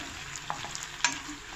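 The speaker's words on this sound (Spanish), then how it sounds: "Ya casi está a medio cocer mi pollo." Chicken frying in a pan while being stirred, a close sizzle under a few brief scrapes and taps of the utensil.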